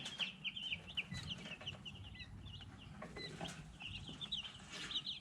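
Soft clucking and chirping from hens and young Dominique chickens nearby, steady and overlapping, with a low background rumble and no talking.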